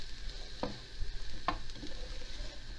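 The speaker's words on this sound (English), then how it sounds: "Just get that cooking nicely. You can hear it sizzling." Vegetable protein frying in a hot stir-fry pan gives a steady background sizzle, with two sharp clatters of stirring against the pan and no talking.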